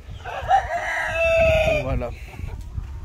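A rooster crows once at a French poultry farm, a loud, close, drawn-out call rising and then falling, followed by softer clucking and a voice in the background.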